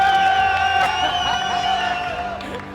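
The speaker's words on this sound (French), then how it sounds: "On peut encore applaudir." A crowd at a roller skate league event cheers and whoops loudly, with shouting voices layered over a sustained roar that eases slightly toward the end.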